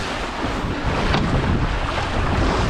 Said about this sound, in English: Now the wind's definitely a bit sheltered by the land there